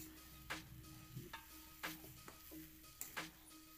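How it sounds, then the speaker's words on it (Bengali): Jackfruit cutlet mixture seasoned with garam masala is stirred in a kadai, with a spatula scraping and tapping the pan in sparse strokes over a faint, steady sizzle. "বেশ ভালো করে নেড়ে নিতে হবে এইভাবে।"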